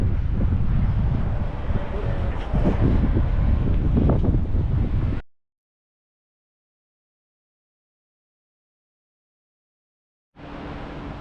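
Strong wind buffets the microphone outdoors in Georgia, a loud roaring rush for about five seconds before dropping to complete silence, then returning briefly at the end.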